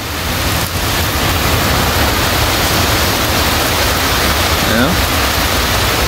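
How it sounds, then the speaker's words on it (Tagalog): Very heavy rain pours down in a steady, loud, broadband roar during a flood in Cavite, with wind adding to the wash; a person talks briefly over it. "Napaka-lakas ng ulan."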